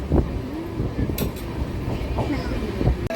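A train rolls slowly through a station without stopping, a steady low rumble with faint clatter and brief squeal accents, while a voice talks over it at moderate loudness.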